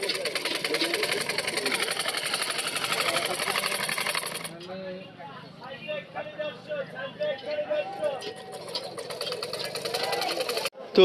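A sewing machine runs at a busy village market stall, stitching a lungi with a continuous mechanical whirr. It drops briefly and then resumes with rattling, and voices and market bustle carry on around it.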